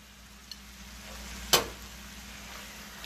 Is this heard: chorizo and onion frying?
yes